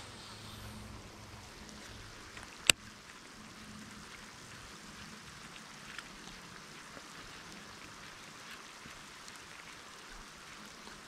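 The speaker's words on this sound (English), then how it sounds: "it's raining." Steady rain hisses faintly and evenly throughout while fishing, with a single sharp click early on.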